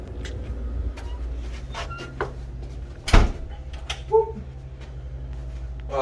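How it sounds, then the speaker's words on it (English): The back door of a gym in Arizona is pushed shut with a single solid thud midway, amid faint room noise and a few small knocks and creaks before and after. "You go back in, I'll close the door."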